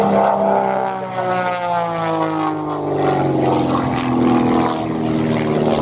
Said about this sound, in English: this one has over 230 horsepower on it to make this very small, agile biplane a great performer it is.